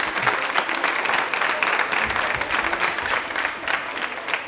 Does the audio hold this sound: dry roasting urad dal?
no